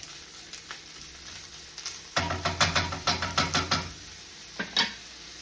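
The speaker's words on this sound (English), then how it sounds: "I am going to go in with my meat. You can use whatever choice of meat you want for this one skillet dish. I chose to use ham." Ham frying in a skillet: a soft steady sizzle with a cluster of clacking stirs and scrapes in the middle and a couple more taps near the end.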